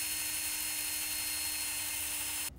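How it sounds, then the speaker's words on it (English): A steady high-pitched whine of a power drill boring a 9/32-inch hole in a plastic piece runs continuously at close range, then cuts off abruptly near the end. "Now I'm going to drill a 9/32 hole in this plastic piece right here."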